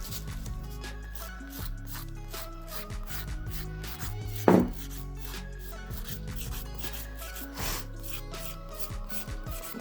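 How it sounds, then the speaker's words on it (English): Light buffing of a fingernail with a nail buffer during foil nail preparation, a soft steady rubbing scrape that runs close and fairly constant, with one brief louder scuff midway and no talking. "So I'm just going to lightly buff over the nail."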